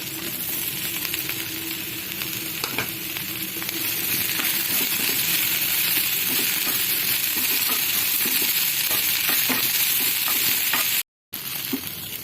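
Onions fry in a pan for bhindi sabji, a steady loud sizzle and crackle running throughout with scattered small pops, briefly dropping out near the end; no talking.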